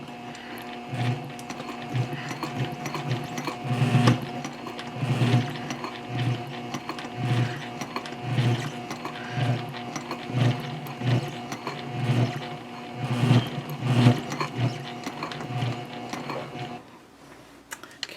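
Sewing machine stitches a backpack seam at a 3.5 stitch length, a close, rhythmic mechanical whirring and clacking in repeated bursts with short pauses, no talking.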